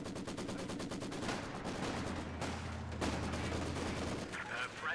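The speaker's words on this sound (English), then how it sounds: "We got MG42 over here." An MG42 machine gun rattles in sustained bursts during a Company of Heroes 2 battle, rapid regular shots with a low rumble underneath, fairly close, pausing briefly before resuming amid other battlefield noise.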